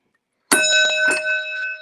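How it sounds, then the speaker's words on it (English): An antique mechanical doorbell from 1868 rings once with a sharp metallic clang, its bright tone ringing on and slowly fading. "See, this is original doorbell."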